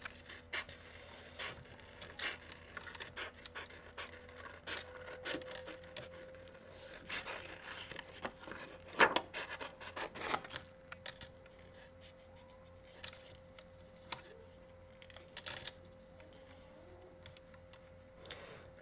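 Scissors cut paper while a handmade card is assembled, producing a long run of soft, irregular ticks and snips close up, with light rustling and a few brighter clicks, quiet throughout.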